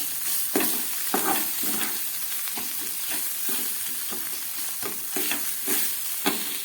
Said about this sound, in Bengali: পেঁয়াজ টমেটোটাকে খুব ভালো করে আমি ভেজে নিলাম